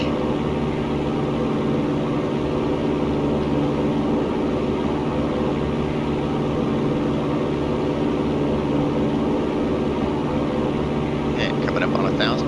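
A Piper Cherokee's propeller engine droning loud and steady during climb-out after a forward slip landing, filling the cabin, with speech faintly under it.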